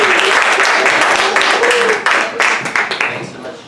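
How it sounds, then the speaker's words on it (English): Loud, dense applause from an audience at an evening talk event fills the space, then thins into scattered claps as it tapers off, with a voice faintly present in the mix. "Please give a round of applause to Peter and Max."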